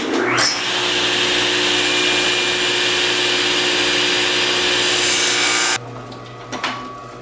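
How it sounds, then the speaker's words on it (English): A power tool notches the underside of a wooden ukulele bridge with a loud, steady, close whine that runs for almost six seconds, then cuts off and leaves a few faint knocks. "Now I notch the underside where the string comes through."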